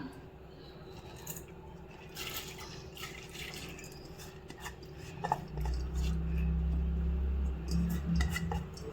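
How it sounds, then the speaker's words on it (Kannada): Washed toor dal and moong dal with water tipped into a heated pot while cooking Andhra-style pappu saaru, a splash and pour that swells midway and continues steadily, preceded by faint clinks of kitchen utensils. "ನೀರು ತೊಗರಿಬೇಳೆ ಮತ್ತು ಹೆಸರುಬೇಳೆ ತೊಳೆದಿಟ್ಕೊಂಡಿದ್ದೀನಿ, ಇದನ್ನು ಹಾಕ್ಕೊಳ್ಳೋಣ"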